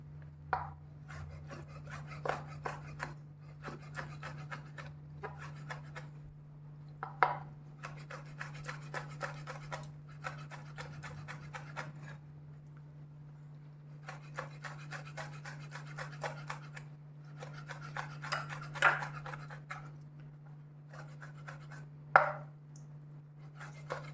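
A knife chops finely on a board while ingredients are prepared for Goan stuffed masala squid, quick rapid bursts of close, crisp taps broken by short pauses, repeating for the whole stretch over a steady low hum, with no talking.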